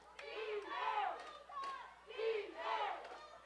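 A home crowd shouts and cheers at a high school football game between Drake and Valley Christian, the roar rising and falling in several loud surges from the stands near the field.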